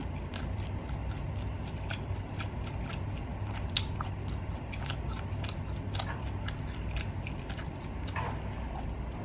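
Close, steady crunching and biting of cumin-spiced Xinjiang roast lamb being eaten, repeated irregular chews over a low constant background hum with no talking.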